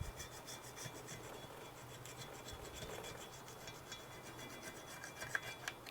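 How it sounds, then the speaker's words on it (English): Scraping of red sealer buildup off the edges of a two-stroke engine part, a quiet, steady rasping scratch repeated in short strokes with no talk. "Sometimes it's built up on the edges, so I want to make sure I get the buildup off."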